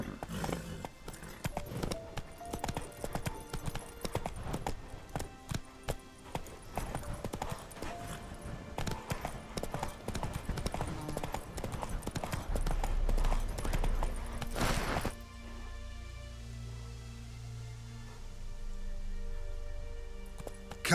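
Roach the horse galloping in The Witcher 3, a fast, dense patter of hoofbeats for about fifteen seconds that then stops abruptly, leaving quiet ambience.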